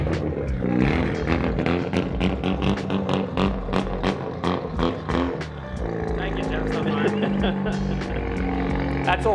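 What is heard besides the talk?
loud drift car engine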